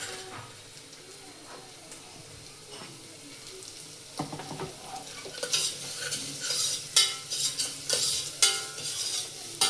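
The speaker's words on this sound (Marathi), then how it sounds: "ह्यामध्ये आलं लसूणची पेस्ट आणि कढीपत्ता एवढंच घातलंय ना तेलामध्ये हो. हां आता कांदा घालताय" Chopped onion goes into hot oil already holding ginger-garlic paste and curry leaves, stirring clatter giving way to a louder, crackling sizzle that swells in bursts toward the end, close and without speech.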